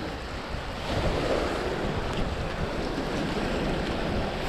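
Strong, steady north wind roars across the microphone during a storm at a fishing spot, a constant broadband rush, buffeting continuously throughout with no voices.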